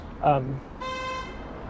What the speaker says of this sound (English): Who's honking at what?